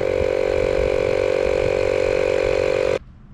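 A Yamaha XJ6 motorcycle of 78 horsepower idles at a riding-test ground, a steady close engine hum for about three seconds before cutting off abruptly into near silence.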